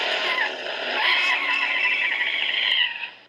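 Car sound effect with continuous engine roar and beeping horns, loud and steady before cutting off near the end.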